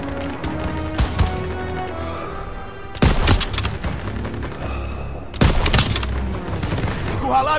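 Rapid gunfire in a Call of Duty WW2 battle, with rattling automatic bursts and two sharp, loud volleys standing out over a din of combat noise.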